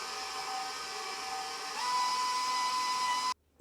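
An electric kitchen mixer kneads dough with a steady whining motor drone that steps up in speed partway through, then cuts off abruptly into near silence.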